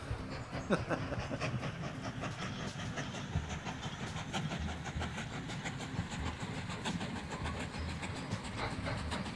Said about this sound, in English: Ah, yes, the train.